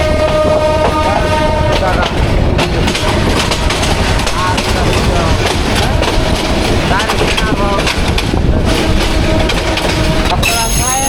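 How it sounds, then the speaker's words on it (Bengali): The Bijoy Express rolls into Mymensingh railway station, loud and close, with constant clattering wheels, squealing brakes and metallic screeches, while people talk over the din. "ময়মনসিংহ রেলওয়ে স্টেশনে বিজয় এক্সপ্রেস ট্রেন প্রবেশ করছে"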